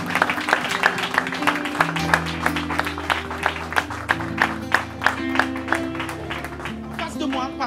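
A church congregation claps and applauds along with the worship leader's call to acclaim the Lord. Sharp, rhythmic, close hand claps run steadily throughout, under an ongoing musical or vocal backdrop.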